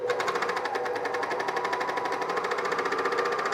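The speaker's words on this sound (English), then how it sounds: "I love how the serger goes over thicknesses" A serger overlocking the thick hood seam of a zip hoodie, a fast, even mechanical whirr with a rapid repeating stitch pulse, close and continuous, nothing else heard.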